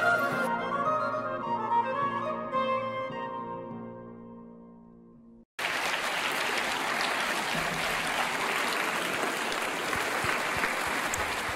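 Audience applause for 200 students breaks out abruptly after a ringing musical passage fades, then fills the room as dense, steady clapping for several seconds.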